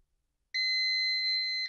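A home UPS unit running on battery power gives one long, loud, steady electronic beep of about a second after brief silence, then cuts off.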